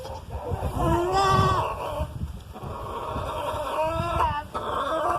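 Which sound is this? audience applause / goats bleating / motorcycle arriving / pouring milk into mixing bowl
goats bleating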